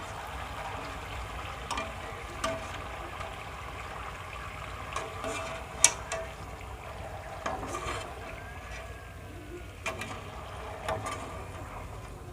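Homemade murukku for Deepavali deep-frying in hot oil, giving a steady, fairly quiet hiss of sizzling broken by scattered small pops and crackles, with no voices over it.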